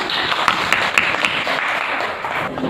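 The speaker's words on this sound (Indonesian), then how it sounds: "makasih kelompok 1, masih tepuk tangannya" A classroom group applauds a student team after its presentation, with steady, fairly close clapping from many hands that runs throughout and carries a few sharper individual claps on top.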